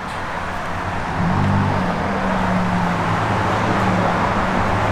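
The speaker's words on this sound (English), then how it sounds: "Car's got great sound." A 1967 Chevrolet Camaro RS/SS engine idles with a steady low rumble, its tone rising slightly partway through and then holding even, close and fairly loud.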